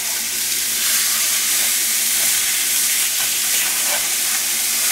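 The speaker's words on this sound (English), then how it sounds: "That'll help sear the sides up as well as the bottom" Beef tenderloin searing in a hot pan, a loud, dense and continuous sizzle and hiss close up, with faint scraping underneath.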